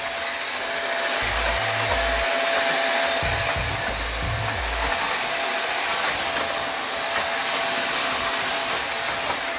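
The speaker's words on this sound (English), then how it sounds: "the vacuum cleaner is truly amazing" A Shark Navigator vacuum cleaner runs steadily on a hardwood floor, a loud continuous whine and rushing airflow with a thin high tone, a few low bumps of the head moving across the boards, no talk.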